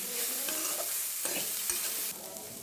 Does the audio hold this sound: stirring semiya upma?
yes